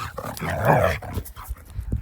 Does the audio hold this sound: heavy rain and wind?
no